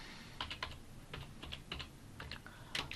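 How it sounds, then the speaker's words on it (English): Quiet, close keystrokes on a computer keyboard come in short irregular clusters over a low background hum. "we need to type return"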